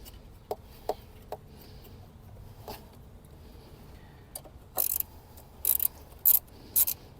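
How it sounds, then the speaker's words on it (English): A battery bracket nut on a Scion iQ is turned by hand, giving scattered light ticks and small mechanical clicks, followed by a few louder rattling scrapes near the end, close by and with no talking. "So start by hand tightening it first so it doesn't cross-thread."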